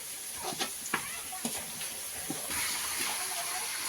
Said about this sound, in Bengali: আলুটা কড়াইতে দেওয়ার পরে একটু নেড়ে ছেড়ে নিয়েছি